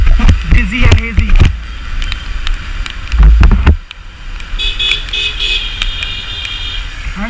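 A Bajaj Pulsar AS200 motorcycle rides along with a steady engine drone and road noise, while a rider talks loudly over it in bursts.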